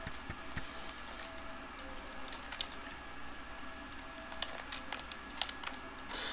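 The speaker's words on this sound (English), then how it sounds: "Don't press on the keyboard, kitty." A cat treads across a computer keyboard, giving soft irregular key clicks and taps at close range over a quiet room hum.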